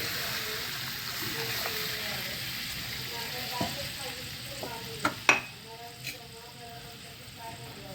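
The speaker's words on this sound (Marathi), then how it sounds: "आणि आता ह्यात थोडंसं पाणी ओतत आहे" Water splashes into hot oil with a soft sizzle and bubbling, a few sharp spatters and a clink of a utensil near the middle.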